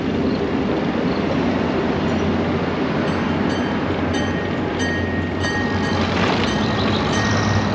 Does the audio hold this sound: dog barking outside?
no